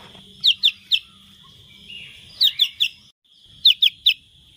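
A red-whiskered bulbul chick calls in three quick bursts, each made of three sharp, high chirps, separated by short pauses over a faint low background rumble.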